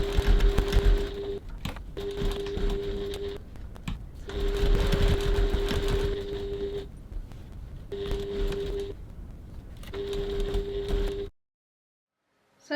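A sewing machine stitches around a crossbody bag's pocket window at a 3.1 stitch length, a close steady whirring in several bursts with short pauses between, ending in silence.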